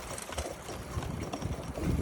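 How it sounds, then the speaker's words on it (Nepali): Steady wind rushing over the microphone while cycling along a quiet village road past wheat fields, a continuous low buffeting roar with no talking. "चिसो हावा खाँदै"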